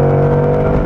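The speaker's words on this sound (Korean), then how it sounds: "이거 배기음 좋다. 좋아." Third-generation Porsche Panamera GTS, a 510-horsepower car of about 2.2 tons, revving around 5,000 to 6,000 rpm from inside the cabin: a loud, steady, deep exhaust drone with rich harmonic hum.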